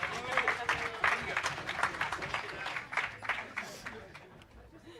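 Applause from an audience at a closing dinner event, a brisk scattered burst of hand clapping that gradually thins and fades, with a speaking voice partly mixed in.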